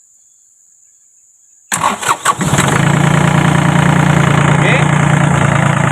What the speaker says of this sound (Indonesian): Injak koplingnya baru kita starter mesinnya.